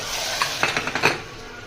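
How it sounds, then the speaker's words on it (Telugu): Tempering spices go into a hot pan of dal, giving a soft continuous sizzle with a quick run of light metallic clinks and scrapes from a spoon against the pan. "ఇదిగో తాలింపు వేస్తున్నాం చూడండి"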